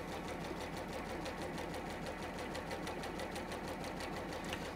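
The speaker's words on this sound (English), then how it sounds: "So I'm just sewing 1/4 inch either side of the line." A sewing machine runs steadily, stitching quilt fabric a quarter inch either side of a marked line for a quilt block, its fast even whir continuing alone and close up throughout.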